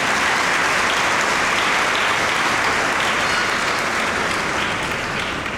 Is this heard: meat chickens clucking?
no